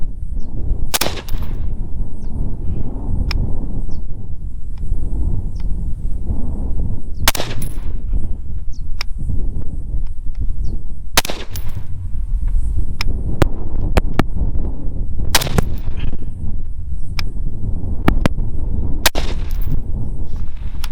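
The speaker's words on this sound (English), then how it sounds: "We went ahead and fired the Fiocchi rounds" Steyr AUG rifle firing Fiocchi 69 grain rounds at a range: five or six sharp, loud reports spaced a few seconds apart over a steady outdoor rumble, with no talking.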